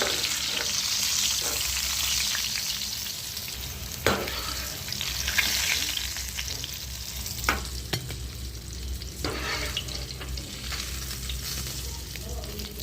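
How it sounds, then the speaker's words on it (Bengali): Pointed gourd pieces fry in hot oil in a kitchen, making a loud, steady sizzle broken by a few sharp stirring scrapes and knocks. "পটলগুলো ভাজা হয়ে গেছে"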